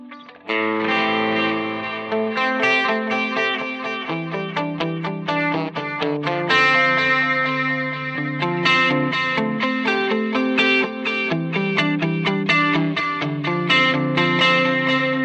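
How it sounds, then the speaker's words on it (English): A Strymon Timeline pedal set to its D-Tape tape-emulation delay processes a continuous distorted guitar line, the repeats smearing notes into a dense, steady wash with no speech. "This is the D-Tape on the Strymon Timeline."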